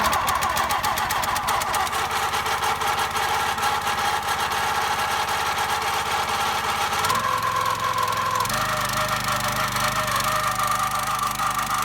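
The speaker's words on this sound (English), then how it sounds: "make sure the fuel is on, put the choke on, and we're going to fire it up" A Black Diamond wood splitter's small engine cranks and catches, then idles steadily with a rough, cold-running drone that shifts pitch partway through, loud and close with no talk over it.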